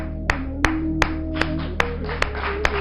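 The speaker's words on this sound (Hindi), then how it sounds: "बजा ताली" Seven sharp, evenly spaced claps ring out one by one over a steady low hum, each crisp and distinct with short gaps between them.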